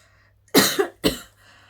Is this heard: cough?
yes